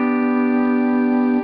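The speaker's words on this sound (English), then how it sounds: "applying the amount of pressure needed in order to get the bar to sound like this" A steel guitar rings out a clean, steady sustained note with the bar pressed down firmly, bright and clear with even harmonics and no rattle, alone for about a second and a half.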